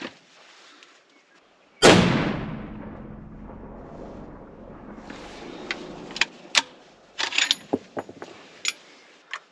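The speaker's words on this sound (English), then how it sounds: "I'm going to shoot the middle target there." A .28 Nosler Savage factory rifle with an AccuTrigger fires one loud, sharp shot of 162-grain ELD-X at a 1000-yard target outdoors; the blast decays over several seconds, followed by scattered clicks and handling noises.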